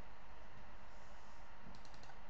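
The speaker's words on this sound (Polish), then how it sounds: "Żeby ją blokować, wpisujemy nasze hasło." A password is typed on a computer keyboard, with a few faint keystroke clicks near the end under a steady background hiss.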